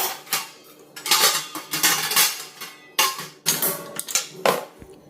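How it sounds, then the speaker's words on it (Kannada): Steel kitchen vessels clatter and clink as they are stacked into a black perforated dish rack basket, a busy series of close metallic knocks and scrapes with brief pauses between placements. "ಆ ವೆಸಲ್ಸ್ನೆಲ್ಲ ಕೂಡ ಅದರ ಜಾಗದಲ್ಲಿ ಈ ಥರ ಜೋಡಿಸ್ಕೊಳ್ತಾ ಇದ್ದೀನಿ"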